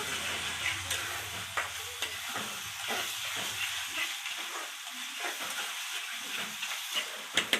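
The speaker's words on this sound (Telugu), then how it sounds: "అల్లం పేస్ట్ ఇంకా ఉల్లిపాయలు మొత్తం చక్కగా వేగిపోయినాయి" Ginger paste and onions fry in a pan at an outdoor cooking spot, a continuous sizzle broken by repeated scraping strokes of stirring, with a couple of sharper clanks near the end.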